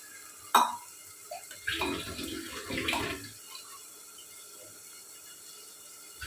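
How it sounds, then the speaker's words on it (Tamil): After a sharp metallic clink, tamarind water splashes and gurgles into a pot of radish sambar with cooked dal for about a second and a half, close and moderately loud. Quiet room tone follows. "புளித்தண்ணி சேர்த்துக்கலாம்"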